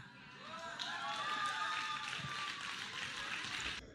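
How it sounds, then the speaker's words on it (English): A faint, distant audience clapping steadily for a few seconds at a church gathering, a thin patter sitting under a tonal hum. "They're clapping."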